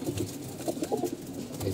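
Weak, sickly pigeons coo softly nearby in repeated low throaty calls, with no voices.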